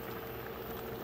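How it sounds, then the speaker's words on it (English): Chicken noodle soup boils rapidly in a pot on a stove, a soft continuous bubbling and hiss that stays steady and fairly quiet throughout. "it's boiling rapidly"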